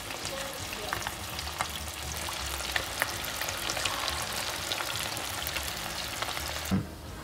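Chicken frying gently on a low flame gives a constant close sizzle with small crackles and a few sharper pops, and a brief clatter near the end, with no talking.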